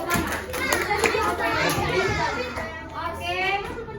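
Schoolchildren in a classroom clap their hands in a burst of sharp, uneven claps while excited young voices chatter and shout over the noise throughout.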